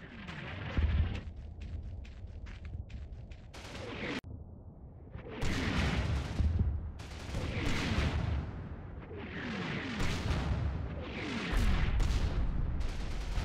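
American artillery fire in the Normandy wargame Combat Mission: Battle for Normandy, with repeated booming blasts and rumbling explosions in irregular succession, loud and dense, with no talk.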